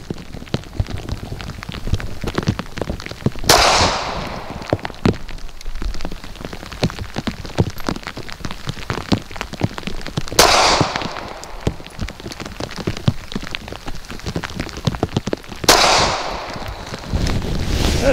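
Three sharp, loud pistol shots from a SCCY CPX-4 handgun fired at an outdoor range, spaced several seconds apart, each with a bright crack and a short decaying echo over steady background noise.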